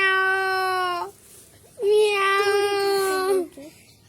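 A person imitates a cat's meow twice, each a long, close, loud drawn-out tone, the second longer and wavering, separated by a short pause.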